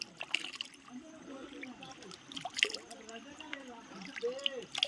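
Water trickles faintly from tree roots at a waterfall in Devunoor, a soft, continuous dribble close by. Someone talks over it.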